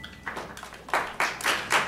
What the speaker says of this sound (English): Please don't applaud this.